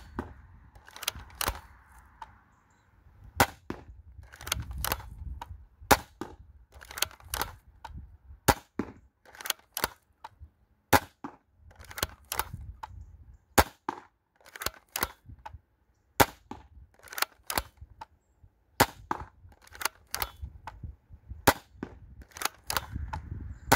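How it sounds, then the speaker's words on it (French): Dart Zone Aeon Pro X foam dart blaster on a 25-metre range shooting 1-gram bamboo darts, a long series of sharp, clicky cracks fired one after another with short gaps and faint handling noise between them. "Donc, nous revoici dans les 25 mètres avec les Dark Zone bambou 1 gramme."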